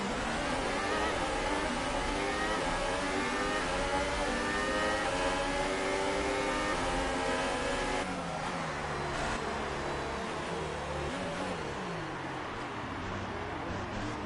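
Several F2 race cars at Monza in a racing video game surge off the start together, engines rising in pitch in long overlapping sweeps, loud and steady, then easing into a lower, rougher drone partway through.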